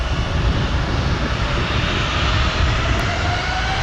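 An Airbus A319 jet at O'Hare Airport sounds as a loud, steady roar of engines, broad and continuous for the whole moment, with no voices.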